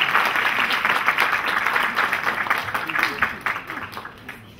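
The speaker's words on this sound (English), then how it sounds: "I want all of you to clap for Ambassador Ashok Sajjanal." An audience at an inaugural session applauds an ambassador, a full burst of clapping that swells early and then gradually tapers off over about four seconds.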